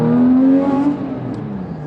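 A Porsche 991 GT3 RS with a changed exhaust revs hard, its engine note rising steadily, then dropping away through a gear shift into a lower, rumbling drone, close and loud.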